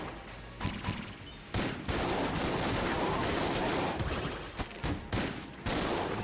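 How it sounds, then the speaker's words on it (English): Dense, rapid shotgun fire from a video game, many shotguns discharging at once in Enter the Gungeon, with near-continuous loud blasts and only brief gaps of a second or so. "it is kind of nice to fire multiple shotguns, like 10 shotguns or 12 or something like that right now."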